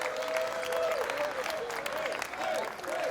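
Applause and crowd noise from a poker tournament audience at the WPT Borgata, a dense steady patter of clapping lasting about three seconds, with some voices mixed in.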